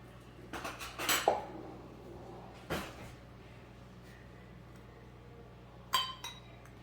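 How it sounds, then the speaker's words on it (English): A spoon scoops plain yogurt into a bowl for a gingerbread bundt cake, giving a few scattered clinks and taps of metal against dishes in an otherwise quiet kitchen. "So 1 cup of plain yogurt. I'm going to use a spoon."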